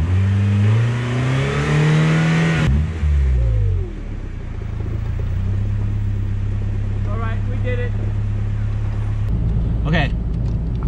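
A car engine revs and strains while the vehicle is stuck on icy snow in freezing weather, the loud droning rev rising and falling, dropping off midway, then picking up again, with people talking over it.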